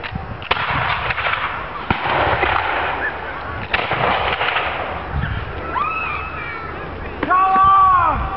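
Gunfire at a historical multi-period reenactment battle at Prestongrange, with sharp bangs in the first half among shouted commands, then loud voices calling out near the end.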